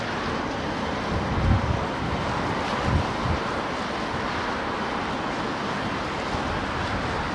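Wind buffeting a microphone at London Heathrow Airport in a 17-knot crosswind, a steady roaring rush with a few stronger gusts early on, no voices.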